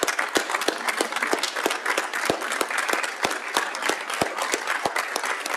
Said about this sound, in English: Let's give Mr. Honey a large round of applause.